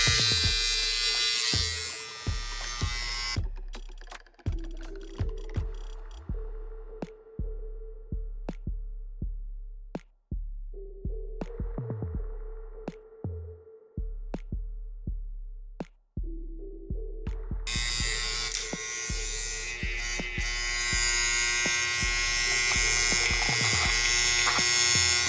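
Restored vintage 1964 Andis Master hair clippers, just after an armature adjustment, run with a loud, steady electric buzz, stopping and starting amid clicks and handling knocks, close up.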